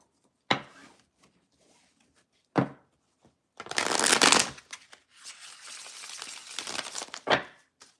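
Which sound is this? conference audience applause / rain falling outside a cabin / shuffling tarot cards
shuffling tarot cards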